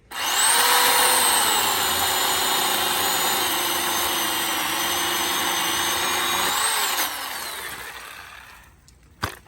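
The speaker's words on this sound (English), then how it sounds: "This is an electric pole saw." An electric pole saw whines loudly and steadily while cutting a crepe myrtle branch, its pitch dipping slightly under load, then the motor winds down near the end.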